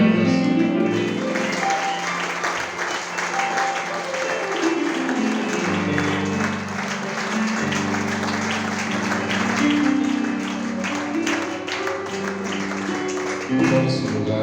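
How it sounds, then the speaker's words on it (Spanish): A church congregation claps loudly and continuously over tonal worship music, a sustained crowd of hands. "Dale un aplauso fuerte"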